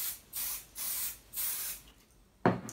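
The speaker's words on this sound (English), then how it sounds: "next, you're going to spray the batting. Again, just a light coat is all you need." Spray adhesive applied to quilt batting in three steady hissing bursts of about half a second each, close and fairly quiet, followed by a brief soft rustle of handling at the end.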